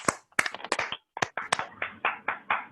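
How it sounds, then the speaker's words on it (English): Scattered clapping from a small online meeting audience welcoming Chris Holmes, heard as a few uneven close hand claps in short bursts rather than full applause. "give a round of applause to Mr. Chris Holmes"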